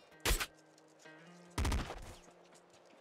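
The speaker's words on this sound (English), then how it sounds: "A pop rifle." Two short, loud bursts of pop rifle fire in the top-down shooter Nuclear Throne, separated by a second of quiet game music and tones.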